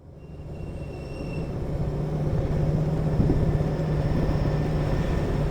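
Half-Life 2 train rolling into a station, a steady low rumble and rhythmic clatter that swell in loudness as it nears, with a faint high whine above, no voices.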